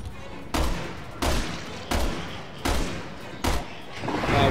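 Bolt-action rifle shots in the video game Resident Evil 6, five loud booming reports spaced roughly evenly about a second apart, each followed by a short ringing decay.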